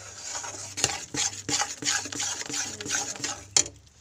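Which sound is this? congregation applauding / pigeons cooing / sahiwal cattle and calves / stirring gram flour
stirring gram flour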